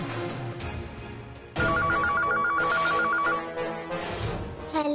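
A landline telephone at home rings in a loud, regular warbling trill that repeats several times, standing out clearly over a quieter background.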